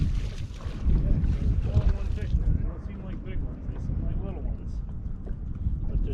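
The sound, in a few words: wind blowing outdoors while fishing from a boat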